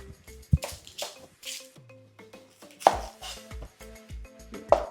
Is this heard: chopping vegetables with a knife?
yes